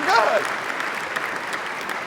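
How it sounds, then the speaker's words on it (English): Keynote audience applauding in a broad, steady wash of many hands, fairly loud and continuous for the whole stretch, with a voice briefly heard at the start. "Give a big round of applause."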